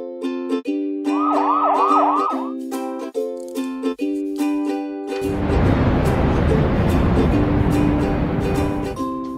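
A fire engine siren wails in rising and falling tones, then gives way to a loud rushing engine roar under continued siren notes, close and prominent.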